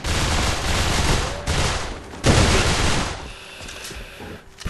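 Rapid gunfire in the online shooter game A.V.A., loud, continuous bursts of automatic fire with brief breaks, then a quieter stretch and a final shot.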